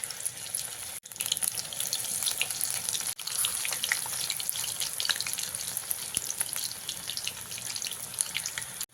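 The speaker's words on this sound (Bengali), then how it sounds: "দেখুন এই ফুলগুলো আমার ভাজা হয়ে গেছে" Pumpkin flowers frying in oil, a dense steady hiss and crackle close by, with short dips in level.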